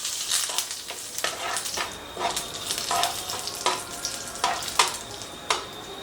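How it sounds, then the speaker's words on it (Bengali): Black mustard seeds, two dried red chillies and curry leaves fry in hot oil for a tempering. A light, steady sizzle runs throughout, broken by sharp crackles and spatula scrapes at irregular intervals, close and moderately quiet. "তেলের মধ্যে আমি দিয়ে দিচ্ছি সর্ষে, কালো সর্ষে দিচ্ছি আমি, আর 2টো শুকনো লঙ্কা, আর একটুখানি কারি পাতা। তো এগুলো দিয়ে এটাকে একটুখানি ভেজে নেব।"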